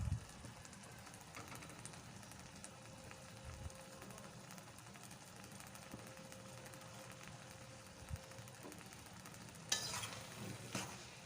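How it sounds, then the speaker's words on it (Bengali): Cabbage curry with garam masala and ghee being stirred in a pan, faint low scraping and gentle sizzle running steadily, with a brief brighter clink near the end. "আবারও ভালো করে নাড়িয়ে চাড়িয়ে নিতে হবে।"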